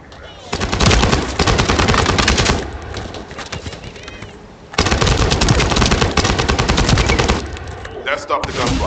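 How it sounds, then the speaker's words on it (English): Rapid automatic gunfire in The First Descendant, loud and sustained in two long bursts with a brief lull between, dense crackling shots dominating the mix. "That stopped the gunfire."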